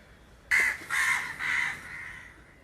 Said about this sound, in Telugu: మా ఊర్లో కాకులు ఎక్కువండి.